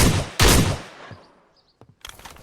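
Gunfire from a firefight in the video game Polywar: two loud, close, rapid bursts in the first half second, a fading tail, then scattered pops and a fresh burst of shots at the end.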